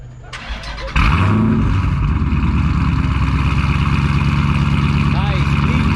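A Dodge Scat Pack with a 392 Hemi V8 cranks briefly on a warm start, catches with a loud bark, then settles into a deep, throaty, lumpy idle that stays loud and close.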